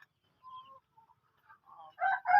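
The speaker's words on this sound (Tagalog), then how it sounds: "check natin itong mga alaga natin manok" Chickens in a farm's egg production area, clucking and calling in short, faint bursts that grow louder toward the end, with no talk over them.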